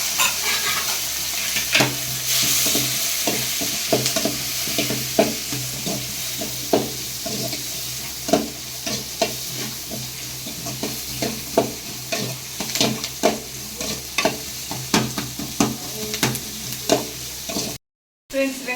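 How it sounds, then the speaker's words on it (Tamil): Onions, tomatoes and dried red chillies sauté in a pan, with a steady sizzle broken by frequent sharp scrapes and clacks of stirring at close range, no one speaking. "வெங்காயம் தக்காளியெல்லாம் வந்து நல்லா வதங்கிடுச்சு."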